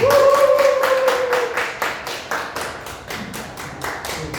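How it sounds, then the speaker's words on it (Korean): A small group claps steadily in rhythmic, evenly spaced claps that fade slightly toward the end, with a brief tone at the start. "박수 좀 부탁드립니다."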